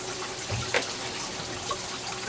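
Hot water runs from a tap in a steady, close-up rush of splashing flow that continues without a break, with no talking.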